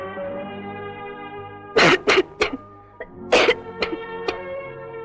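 A person coughs in several sharp bursts, a quick cluster followed by a few more scattered coughs, over a low steady background hum.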